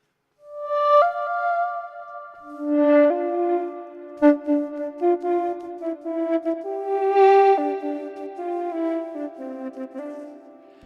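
Soft, breathy synth tones from a pan flute sample in a long-grain oscillator, played with a breath controller in Reason, swell and sustain in slow, overlapping notes, with gentle filtered shifts and occasional grainy flutters.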